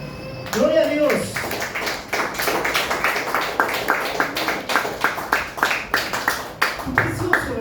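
Church congregation clapping, brisk rhythmic claps in a steady beat, close and fairly loud, with a voice speaking at the start and again near the end.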